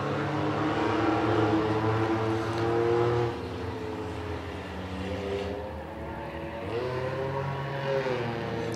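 Race cars scream around a track during a feature race, their engines rising and falling in pitch as several pass close, then fade to a lower drone before another surges by.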